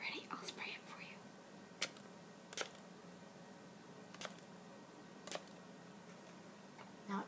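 A spray bottle gives several short, soft hissing spritzes spaced a second or more apart in a quiet, close room, the bursts brief and fairly faint.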